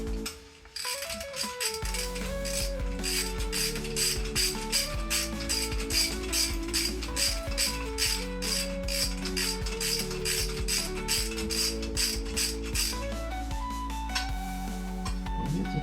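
A ratchet clicks rapidly and steadily for about fifteen seconds, close and loud, while tightening a bolt on a K24 engine mount that may be stripping or mismatched.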